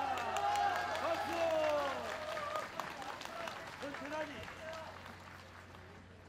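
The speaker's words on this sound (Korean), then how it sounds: "박수." An audience applauds during a president's farewell speech, a steady wash of clapping from a crowd at moderate distance that continues under a speaking voice and slowly fades.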